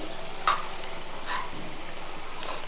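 Long strips of dragon chicken fry in hot oil, a steady close sizzling hiss with a few brief crackles and pops.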